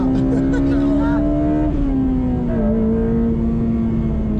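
A Honda Civic Type R FD2 Mugen RR engine hums loudly and steadily nearby, its pitch rising slightly then settling, with a voice talking over it.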